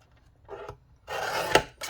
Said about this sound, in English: Okay, so I've trimmed that one down